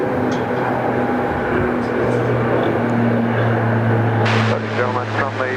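A jet airliner roars continuously as it takes off from runway 34 left at Sydney Airport, a loud, broad rumble heard at a distance, with radio chatter and talk over it.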